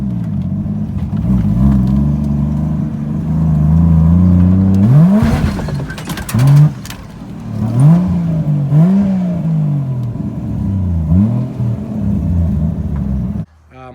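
A Lexus IS300 with a swapped 1JZ engine revs hard as its wheels spin, the engine rising and dropping in repeated surges with a loud, close rumble, then cutting off abruptly at the end.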